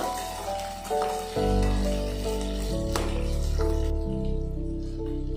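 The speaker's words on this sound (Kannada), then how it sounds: "ಈರುಳ್ಳಿ ಸ್ವಲ್ಪ ಚೆನ್ನಾಗಿ ಫ್ರೈ ಆಗಬೇಕು" Chopped onions and chana dal fry in a pan for beetroot palya with a steady, close sizzle that continues under prominent background music.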